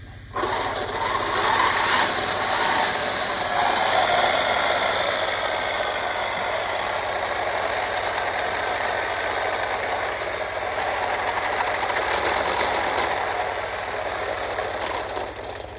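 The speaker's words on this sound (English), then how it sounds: "the axles, they're not really binding, but they do, you hear that" Continuous whirring, ratcheting mechanical grind from the axles of a DBXLE RC car turning at full steering lock under load, loud and close, steady for the whole stretch with no talking.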